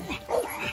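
A gamebred bulldog barks and yips in a kennel yard, a short nearby burst of several vocalizations with no talking over it.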